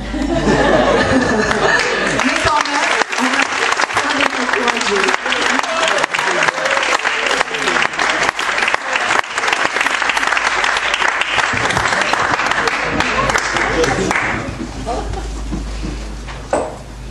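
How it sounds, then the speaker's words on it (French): A crowd at the Jazz au Sommet concert loudly applauds and cheers for young vocational high-school performers, with sustained clapping and laughter, plus voices mixed in, before it fades near the end. "Alors tout de suite on va applaudir et encourager les jeunes lycéens."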